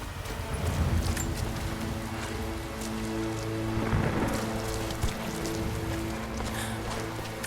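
Steady heavy rainfall with rolling thunder in the video game Rise of the Tomb Raider, a dense continuous wash of drops under low rumbling, with no speech over it.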